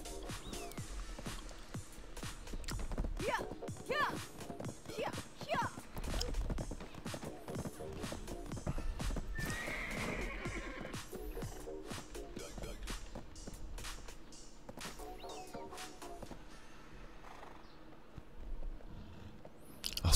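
A horse ridden in the online fantasy game Black Desert Online trots with steady clip-clop hoofbeats, briefly whinnying midway, while background game sounds and occasional faint speech sit underneath.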